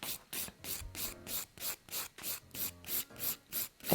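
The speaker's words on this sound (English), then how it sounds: "100 grit file" A 100 grit file rasping away a hard gel nail overlay on a natural nail, close, regular back-and-forth strokes of about three per second, no talking.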